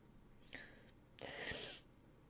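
A single sneeze, a short intake then a sharp breathy burst, close and fairly quiet against a soft background.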